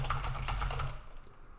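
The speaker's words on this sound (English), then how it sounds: "now it's ready for me to start typing" Rapid keystrokes on a computer keyboard while working in the Vim editor on a Linux command line, a close run of light clicks that trails off into quiet.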